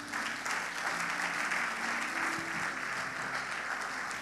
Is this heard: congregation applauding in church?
yes